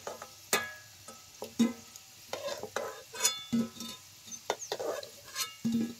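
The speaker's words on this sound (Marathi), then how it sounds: "बटाटो अशी लालसर वसूर तेलात चांगली भाजून घ्यायची" Potatoes frying in oil over a wood-fired stove while dum aloo is cooked, with a steady low sizzle broken by repeated stirring scrapes and spoon clinks against the pan, recorded close with no talking.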